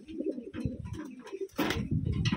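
Taiwan pigeon hen cooing close by, a soft, low, throaty murmur in repeated pulses that swells louder toward the end.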